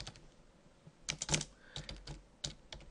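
Computer keyboard keys tapped in irregular bursts of quick clicks, close and moderately loud, with short pauses between clusters; no voices.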